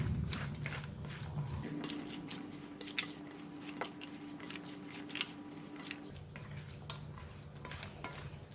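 Someone eating spicy Thai pork sausage salad with roasted groundnut and chili: soft bites, squishy chewing and light clinks of cutlery or dishes, close and quiet over low background hum.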